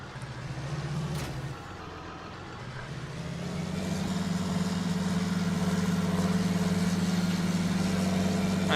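Tractor engine in Farming Simulator 19 running steadily, a low droning hum that rises and settles into a constant loud drone with a faint steady whine above it, no voices.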